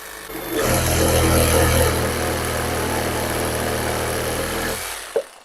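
A Procraft RS20A cordless reciprocating saw runs in automatic mode for about four seconds, with a loud, steady buzzing motor whine close by. It starts and stops abruptly, and a short click follows at the end.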